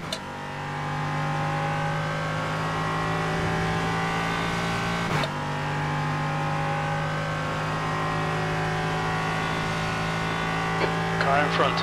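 A Ligier-style LMP3 prototype race car engine in iRacing at Interlagos holds a steady high droning whine with a brief shift blip midway, loud and continuous.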